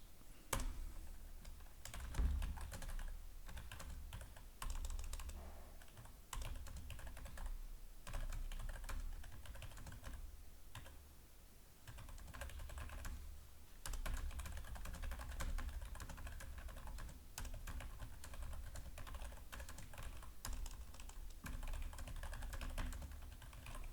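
Someone types a new email on a computer keyboard, a close, quiet run of steady key clicks with occasional pauses and heavier strokes that lasts throughout.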